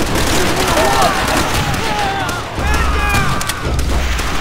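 Machine gun fire in Call of Duty: World at War, continuous rattling bursts mixed with distant booms and battlefield noise, with voices shouting under it.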